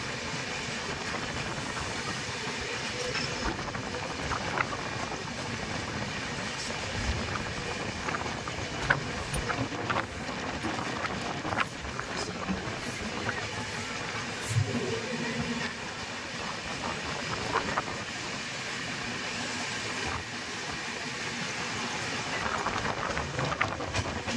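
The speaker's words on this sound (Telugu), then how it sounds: "ఇప్పుడు క్రాస్ అవుతున్న ట్రైన్" The Janmabhoomi Express passenger train passes close by, rumbling and clattering steadily, with wind-like roar and rattling wheels on the rails, sustained.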